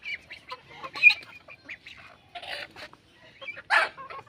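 Farmyard chickens cluck in short scattered bursts near a rural Assam homestead where ducks and goats are also kept, with louder squawks around a second and near the end.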